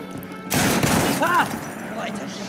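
A sudden gunshot in a video game rings out as a loud broadband blast after a quiet start, followed by a lingering rumbling tail, with a person's voice briefly present.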